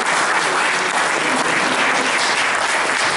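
Audience applause at a public round table on taxation, a dense steady clapping from a crowd filling the room, continuous and fairly loud throughout.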